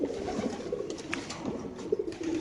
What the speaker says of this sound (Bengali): এটা হলো ব্ল্যাক রেসার মাদি কবুতর